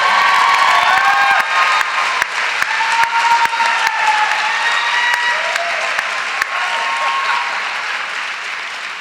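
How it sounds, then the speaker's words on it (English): A lecture audience at Naropa University claps steadily for about nine seconds, loud and dense with scattered whoops and cheers mixed into the sustained applause. "Your applause is really sick."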